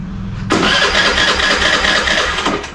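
A Suzuki Access 125 scooter with a faulty starter cranks, a loud whirring, rattling burst that runs for about two seconds without the engine catching, then fades.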